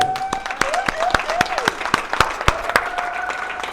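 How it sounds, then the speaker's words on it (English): Applause from an audience with sharp, scattered claps over a steady wash of hands, while a tone drifts in the background. "Round of applause for Nick."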